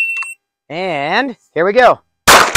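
A short electronic start beep from a shooting shot timer sounds first, followed by someone speaking briefly and then one sharp, loud burst at the end.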